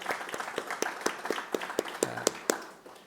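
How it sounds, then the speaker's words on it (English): A small gathering at an Irish campfire event at Rosie O'Grady's gives a brief round of applause, distinct individual claps close by, fairly sparse and irregular, fading after about three seconds. "maybe we give a little round of applause to Rosie O'Grady's for being back and for welcoming us here"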